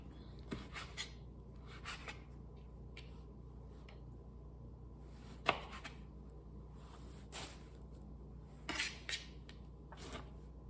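Knife roughly chopping vegetables on a board for chicken sinigang, scattered faint taps and scrapes spread irregularly, with a few sharper knocks.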